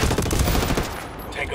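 Gunfire in the video game Ghost Recon Wildlands, Fallen Ghost expansion, as a dense, loud burst of rapid automatic shots close by that thins out toward the end.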